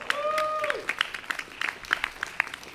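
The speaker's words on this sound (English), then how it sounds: "Give him a round of applause." A church congregation applauds after a hymn performance during a Sunday service, scattered claps building into a brief round of applause at close range.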